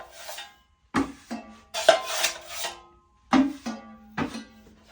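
Drywall joint compound being scraped out of a mud pan with a taping knife, several short rasping scrapes in irregular bursts with brief pauses between, close and moderately loud, no talking.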